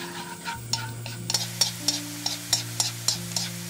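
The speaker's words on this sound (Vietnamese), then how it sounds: "Cho phần tỏi băm vào phi lên cho đến khi tỏi hơi chuyển vàng là được nha." Minced garlic fries in oil in a pan while a utensil stirs, giving a soft sizzle with a series of regular clinking taps against the pan, alone with no talk.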